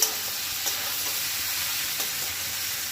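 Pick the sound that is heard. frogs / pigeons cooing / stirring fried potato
stirring fried potato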